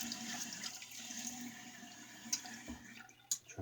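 Water from a sink tap splashing as hands wet the face before a wet shave, a soft continuous running and splashing with occasional sharper drips and slaps, close by.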